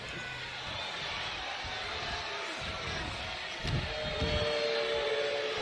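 A WWE 2K20 arena crowd gives a steady, roaring cheer at moderate level that swells slightly near the end, with scattered thuds and slams from ringside action.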